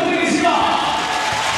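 Crowd at a Korean Basketball League game cheering and yelling in a loud burst of shouts and whoops, a dense, close roar with no clear clapping standing out.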